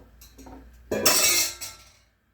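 A single metallic clatter of a pressure cooker lid set onto a pot of vegetables cooking for sambar, followed by a brief ringing rattle that fades out.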